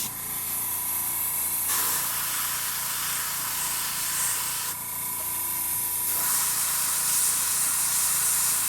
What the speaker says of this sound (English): just a little zap with your airbrush, just to change the tone a little bit